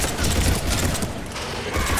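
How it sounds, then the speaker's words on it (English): Rapid gunfire from the multiplayer mode of the video game Mass Effect 3, a dense, continuous burst of shots at steady loudness with no voices. "Just keep fucking firing."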